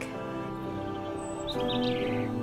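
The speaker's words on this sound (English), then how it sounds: "A blackbird is black." A blackbird sings in bright, quick chirping phrases over a steady bed of music, the calls growing clearer in the second half.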